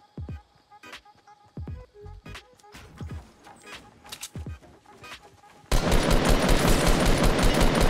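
Rapid bursts of gunfire in the video game Fortnite crack out in quick volleys, followed by a sudden dense, loud stretch of continuous firing and noise.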